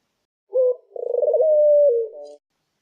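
Pigeon cooing sound effect: one short coo followed by a longer, drawn-out warbling coo lasting about two seconds, clear and alone with no other sound.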